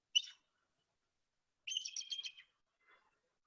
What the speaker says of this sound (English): So there's 2 eagles calling in this video clip